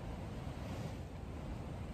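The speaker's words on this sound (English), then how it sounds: "it's still pretty windy out there" Steady low rumbling wind buffets a tent while camping in North Devon for two seconds, a constant broadband roar with no voices.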